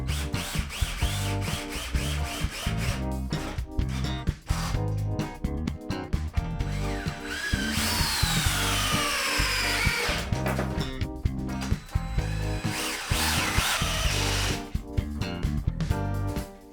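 Power drill driving screws into an oak desk base in a workshop: repeated short bursts of whirring and grinding, close and fairly loud, with brief pauses and handling clatter between them.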